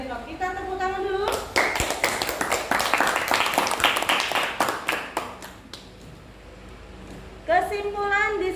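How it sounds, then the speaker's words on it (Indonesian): A classroom of students bursts into brisk hand clapping for several seconds before it fades to scattered claps, with a person talking before and after. "Kita tepuk tangan dulu."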